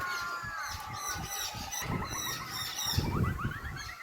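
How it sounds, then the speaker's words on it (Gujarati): A busy chorus of birds calls and chatters nearby, overlapping honking and chirping notes that continue throughout. "પંખીનો કલરવ ત્યારે બાજુ સંભળાય છે"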